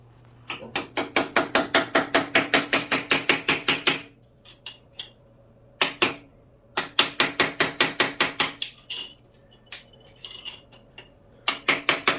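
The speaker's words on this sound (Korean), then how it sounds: "그래서 꿀과 망치를 이용해서 꿀 망치" Rapid bursts of sharp metallic-ceramic taps from a hammer striking a toilet bowl set with urethane grout, several fast rhythmic runs of near, loud blows separated by brief pauses.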